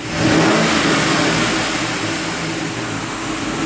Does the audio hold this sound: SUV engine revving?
yes